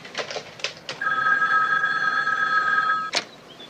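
A telephone bell rings in one steady electronic trill lasting about two seconds, loud and close, framed by a few short knocks or clicks before and after.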